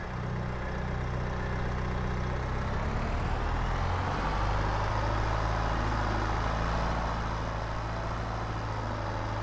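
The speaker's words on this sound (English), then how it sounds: "Start our engine." Truck engine starting and settling into a steady low idle in Farming Simulator 22 on a farm map, a continuous rumbling drone that stays even and moderately loud throughout.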